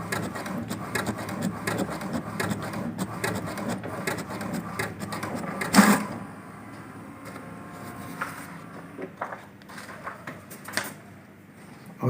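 An HP DeskJet 2332 inkjet printer running a colour photocopy, its steady mechanical whir and feed noise carrying on for several seconds, then a louder clack before the motor settles into quieter intermittent movements.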